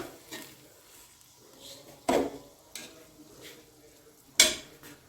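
A spoon stirs boiled rice with sugar in a pot, giving faint soft scraping with a few sharp clinks against the pot, quiet and close.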